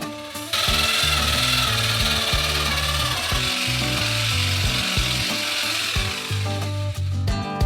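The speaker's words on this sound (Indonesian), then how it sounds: "Dan campurkan dalam es krim dengan mixer besar" A large mixer churning ice cream mixture, giving a loud, continuous mechanical whir with a shifting, stepped drone that starts abruptly after a brief quiet moment and runs steadily throughout.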